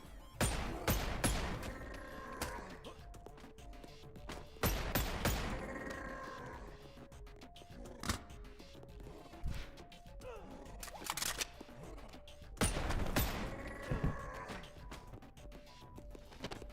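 Pistol shots in the VR game Boneworks, several sharp bursts in clusters with mechanical clicks and handling noises between them, close and loud with quieter stretches.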